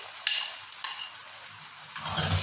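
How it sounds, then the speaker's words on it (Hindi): Blended spinach paste hitting a hot tadka and being stirred, with a soft, intermittent scrape and clatter that builds into a fuller, louder sizzle near the end. "अब हम इसको इस तड़के में शामिल कर रहे हैं और इसको खूब अच्छे से भून लेंगे।"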